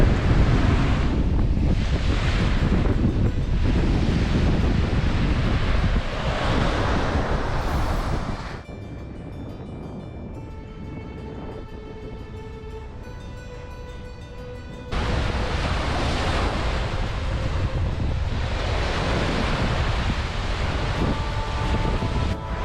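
Choppy ocean waves crash and surge continuously on a windy shore at Agnes Water, Queensland, dropping briefly to a quieter rumble mid-way before the roaring surf returns.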